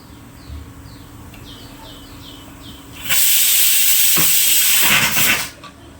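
A kitchen pressure cooker, cooking alongside a crab curry, gives a loud, steady rush of escaping steam that lasts a couple of seconds and then cuts off, after quieter background noise.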